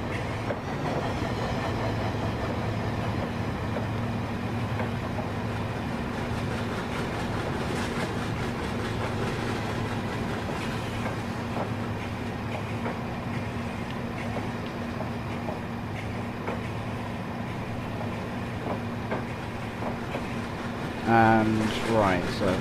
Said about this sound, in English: Just sitting here watching this train go past.